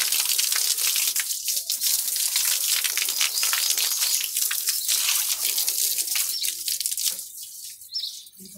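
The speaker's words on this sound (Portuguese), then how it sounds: "Eu vou só passar a vassoura aqui." A broom pushes water across a house floor during a cleanup, making a steady, close wet swishing and splashing that eases off near the end.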